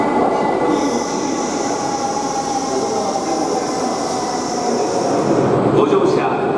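A Kamome Shinkansen train sits at a station platform on the Nagasaki to Hakata line, producing a loud, continuous rumble with a sustained high squeal and a steady hum.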